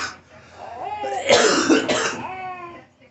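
A baby coughs close by, a harsh, strained cough-like vocal burst lasting a couple of seconds, loud and alone.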